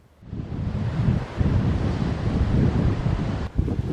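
Strong wind off the Atlantic roars across the microphone over the steady rush of ocean waves on the Irish coast, loud and continuous with gusty swells throughout.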